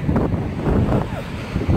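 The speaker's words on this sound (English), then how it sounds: "It's a little bit windy, you guys." Strong wind buffets the microphone outdoors, a continuous low roaring rumble with uneven gusts and no speech during these few seconds.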